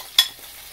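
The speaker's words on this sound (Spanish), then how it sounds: "ahora echamos nuestro huevito que quede todo cubierto en el sartén" A single short burst of sizzle as beaten egg hits a hot frying pan, close and bright, then fading into quiet.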